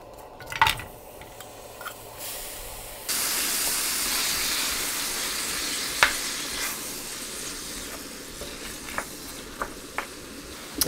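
Onions and minced kimchi dropped into hot sesame oil in a pan, a sudden rush of hissing sizzle after a few opening knocks, then a steady fry punctuated by spatula clacks.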